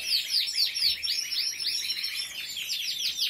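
A Spanish timbrado canary sings alone and close, with a steady string of bright, rapid chirping phrases that repeat rhythmically and link smoothly together.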